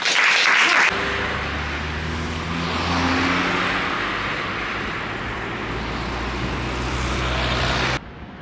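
Applause from an audience at a stand-up comedy club in France fills the room, a dense, steady wash of clapping that swells slightly mid-way and then cuts off abruptly.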